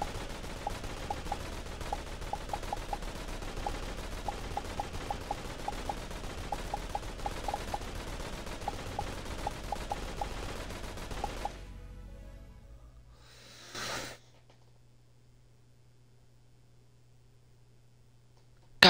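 Rapid gunfire from the Aim Lab aim trainer game on a console, dense bursts of shots for about eleven seconds, then a quiet stretch with one brief flourish and faint background hum.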